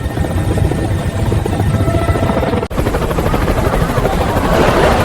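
Loud, continuous helicopter rotor thrum and engine buzz in an AI-generated clip, steady throughout with one momentary dropout midway and no talk.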